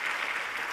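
Sustained audience applause at the International Booker Prize 2023 winner announcement, a dense steady wash of clapping from a large crowd, heard alone without talk.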